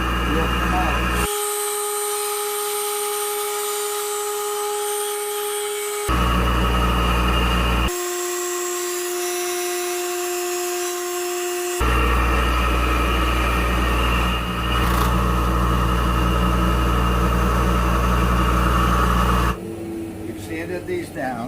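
A workshop machine runs with a dust collection system while parts for custom solid-wood pool cues are cut out. It makes a loud, steady mechanical drone with a hum underneath, and the sound shifts in pitch and texture across several sections.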